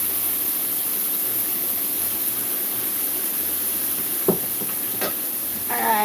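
Food searing in a hot pan gives a steady, even sizzle and hiss throughout, with a few sharp utensil clicks near the end and no talk.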